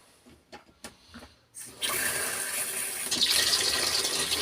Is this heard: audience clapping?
no